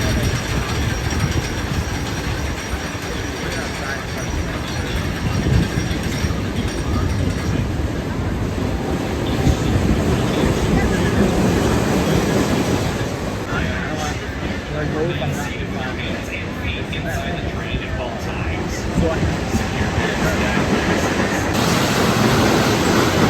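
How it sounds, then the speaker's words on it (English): Riders on the Whizzer family roller coaster at Six Flags Great America, with continuous rattling track rumble and wind noise throughout, and voices mixed in under the din. "So Whizzer was a perfectly fine family coaster"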